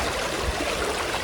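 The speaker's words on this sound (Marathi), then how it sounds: "बघू शकता खळखळाट आहे पाण्याचा, आणि ते पाण्यातनं आम्ही चाललेलो आहोत" Gurgling river water near Alibag in Maharashtra, heard from a vehicle driving through it on an adventure trip, makes a continuous close rushing and bubbling wash with no breaks.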